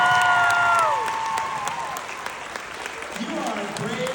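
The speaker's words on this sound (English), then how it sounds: "We're gonna give you a round of applause" Applause from a convention audience of about a thousand people at a vampire fan weekend in Denver, rising over lingering music tones with a voice speaking over the steady clapping.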